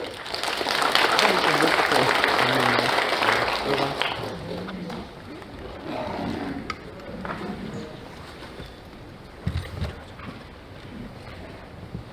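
Audience applause welcoming a county governor at the founding assembly of a national association of bereaved families, a loud burst of clapping for about four seconds that fades into quieter crowd noise and scattered claps.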